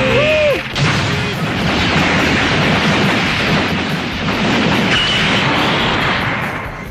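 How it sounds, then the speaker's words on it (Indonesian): Cartoon army tank cannons in Dragon Ball Z fire in a sustained barrage of booming blasts and rumbling explosions, dense and loud throughout, with a brief whine at the start. "tentara-tentara itu segera menembakkan meriam-meriam yang berada di tank mereka ke arah monster misterius itu"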